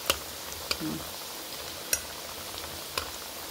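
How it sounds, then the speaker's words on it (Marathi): Alu tikki fry in hot oil with a steady, soft sizzling hiss, broken by a few sharp ticks of a utensil against the pan, close and quiet. "आणि कडक तेलामध्ये तळल्या ना तेल राहत नाही."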